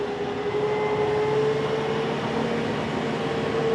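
A big new tractor's engine drones steadily from inside a roomy cab, a constant low rumble with a faint whine, loud and unbroken with no talk.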